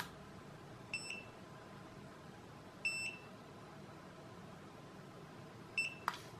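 Three short, high electronic beeps from Eachine EV100 5.8 GHz FPV goggles switching back to video receive mode, evenly spaced about two seconds apart, over a quiet steady hum.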